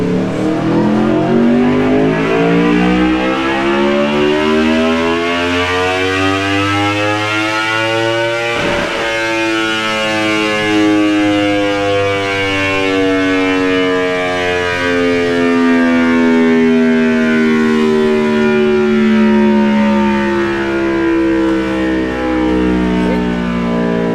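An Aprilia RSV4 motorcycle engine runs on a dyno, loud and close, winding up through a long continuous rev that climbs steadily, briefly breaks near the middle, then keeps rising in pitch.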